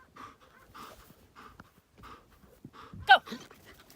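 A dog pants in repeated short bursts of breath after chasing a ball during call-off training, close and fairly soft, ending with a sharper, louder sound near the end.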